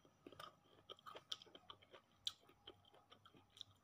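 Chewable tablets, taken with meals by a dialysis patient, crunched between the teeth in a quiet series of close, irregular bites and grinding clicks, with no talk.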